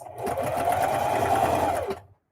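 A sewing machine runs in one quick burst, stitching right along the fabric edge of a lunch tote bag, a close, steady mechanical whir that stops abruptly.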